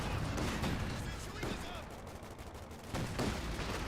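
Gunfire and battle noise from the video game Company of Heroes 2, with machine gun bursts and shots at about 1.5 and 3 seconds under steady loud combat clamor, with a commentator's voice over the top.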